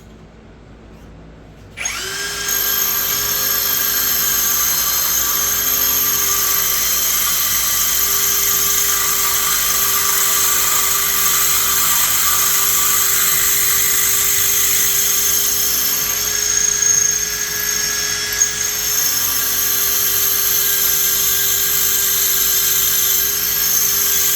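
Power drill boring into a HEMI crankshaft to pin it during an ATI Super Damper install, a steady high whine that starts abruptly after a brief quiet moment and runs loud and unbroken with no talking.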